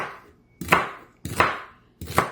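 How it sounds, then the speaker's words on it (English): Knife chopping through celery on a cutting board: three sharp, close, loud chops spaced evenly, each a crisp crunch with a quick decay and no voices. "Now I'm going to put some of this celery, I like to cut it like this."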